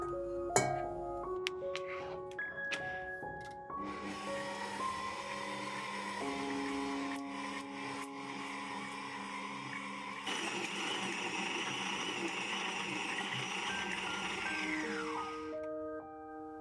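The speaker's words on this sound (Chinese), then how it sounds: "搅拌到能拉出厚膜" An electric mixer kneading bread dough for soft buns, with unsalted butter worked in: a steady mechanical whirr beneath tonal background sound, louder in the later part before the motor winds down near the end.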